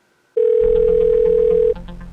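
A telephone call tone sounds as a friend is phoned: one loud, steady electronic tone held for over a second, with a faint background hum underneath, then dropping to a quieter line sound.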